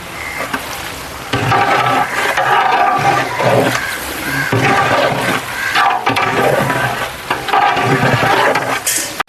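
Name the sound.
onions and chilli powder being stirred and fried for chicken biryani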